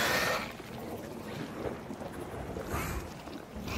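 A thunderstorm rolls through a match of the video game The Cycle Frontier, with a low continuous rumble and windy wash, swelling into louder bursts near the start and again toward the end, no voices present.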